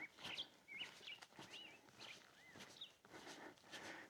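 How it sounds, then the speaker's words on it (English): Birds chirp and warble repeatedly in bright, quick phrases, fairly close, with a soft rustle underneath and no talking, heard while hiking the Pacific Crest Trail. "you could hear the birds singing"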